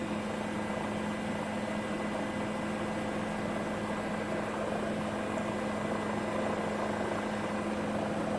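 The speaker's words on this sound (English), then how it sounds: "NYPD helicopter up in the airspace with us" An NYPD helicopter flies overhead in New York, its steady rotor and engine drone with a faint pulsing hum holding at a constant level throughout, with no voices.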